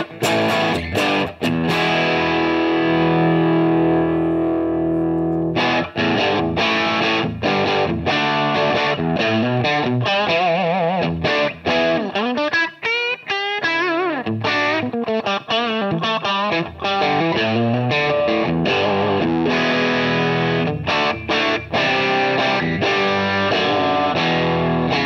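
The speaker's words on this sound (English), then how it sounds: "So now we are getting into power tube and phase inverter distortion," A guitar amplifier pushed into power tube and phase inverter distortion, loud and sustained, with dense saturated chords, a short cleaner opening and a swirling sweep in the middle.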